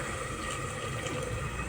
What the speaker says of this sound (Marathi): पाणी टाकलं थोडं.